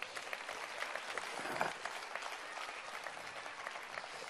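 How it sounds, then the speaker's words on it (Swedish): Steady, dense clapping from an audience at a live evening church gathering fills the space, an even wash of many hands applauding without a break, moderately distant. "Kan vi bara ge brorsan en stor applåd?"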